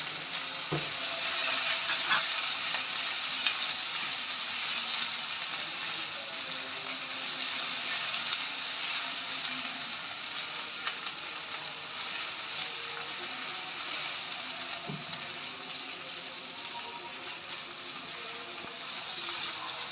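Tomatoes and ginger paste fry in a pan for an egg curry, giving a steady bright sizzle with a few light clinks and stirring scrapes and no talking.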